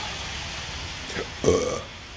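A single short, low burp sounds near the microphone after a brief quieter sound, with no talking.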